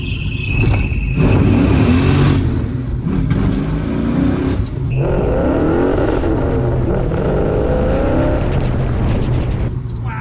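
A 1965 Plymouth Barracuda A-body with a 360 engine and five-speed roars loudly as it drives, the engine note holding a heavy drone and sweeping up and down through several hard revs.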